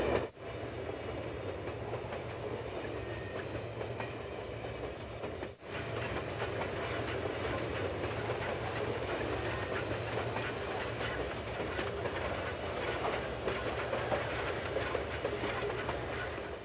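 East Tennessee and Western North Carolina narrow gauge train, the Tweetsie, running in 1942 with a steady rolling rumble and clickety-clack of wheels, a faint hiss and a brief dip partway through.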